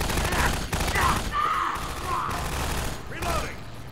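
Antlions exploding in Half-Life 2: Episode 2, a dense rapid string of bursts and gunfire-like blasts in game combat, loud and continuous with brief clearer pops.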